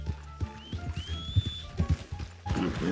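Horse in the western video game Red Dead Redemption 2, with close hoof clip-clops and soft snorts or a brief whinny coming and going in an uneven rhythm, alone with no talk.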